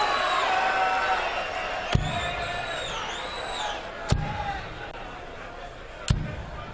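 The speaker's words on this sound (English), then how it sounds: "The crowd doesn't want this match to finish." A darts crowd at the BDO World Championship quarter final keeps up a loud, sustained roar of cheering and whooping, punctuated by three sharp slap-like thuds spaced roughly two seconds apart.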